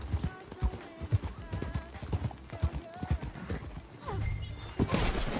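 Horse hooves clip-clop at a brisk pace in the Red Dead Redemption 2 video game, close and rhythmic, with a horse whinnying and a voice speaking over the game sounds.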